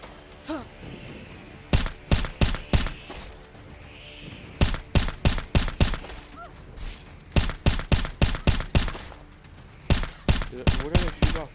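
Gunshots ring out in Blade and Sorcery Nomad, sharp loud cracks fired in tight clusters of four or five with short pauses between volleys, close and prominent over a quiet background.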